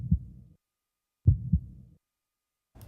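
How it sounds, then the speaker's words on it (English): A heartbeat sound effect layered into a music beat: two soft double thumps, each a low lub-dub pair, spaced about a second apart with silence between, muffled and bass-heavy, followed by a brief brighter sound at the end. "And I added a heartbeat sound effect as well."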